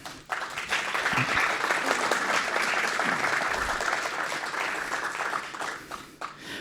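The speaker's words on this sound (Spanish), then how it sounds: "Aplauden porque no me quieren escuchar" Audience applause at a tribute event, dense and sustained clapping from a large crowd that swells quickly, holds loud and even for several seconds, then thins out near the end.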